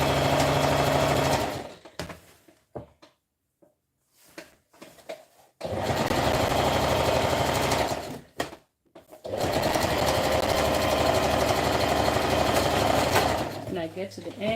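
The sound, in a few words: sewing machine stitching fabric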